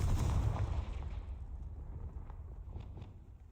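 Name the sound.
Confringo explosion spell in a Harry Potter video game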